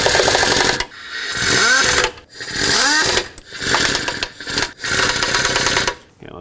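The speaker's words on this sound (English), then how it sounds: "I'm going very slow with my air gun." Pneumatic air impact gun snugging timing cover bolts on a 1997-2003 Ford F-150 with the 5.4L engine, heard as about five loud, close whirring bursts of a second or so each, separated by short pauses.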